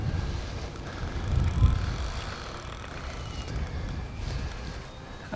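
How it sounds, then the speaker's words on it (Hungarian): Wind gusting and whistling through thin fishing line outdoors, a steady airy rush with buffeting against the microphone, rising and falling without voices. "Eléggé föltámadt a szél, talán halljátok is, hogy sűvít a vékony zsinóron."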